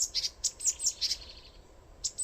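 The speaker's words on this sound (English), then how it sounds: "It's a noisy little bird." Small bird on a South Korean coastal trail gives a quick series of high, sharp chirps, about eight in a row, then a short pause and two more, close by and fairly clear over faint background.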